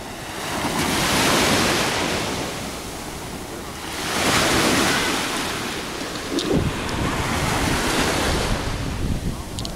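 Sea waves wash onto Kleopatra beach in Alanya, Turkey, swelling and receding in slow surges every few seconds, with heavy wind buffeting the microphone.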